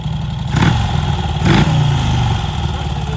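A moped engine idles nearby and is blipped twice, with two short revs rising sharply above the steady putter and then dropping back.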